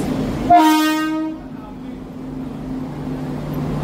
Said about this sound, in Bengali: Padatik express train number 12377 up Sealdah Padatik express